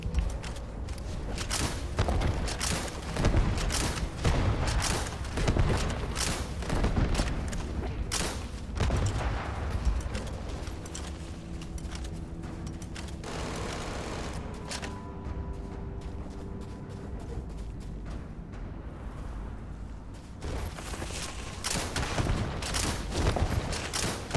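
Dense, continuous gunfire from the Starfield video game pounds away throughout, with rapid overlapping shots and thuds at steady high loudness and a short lull of humming tones midway.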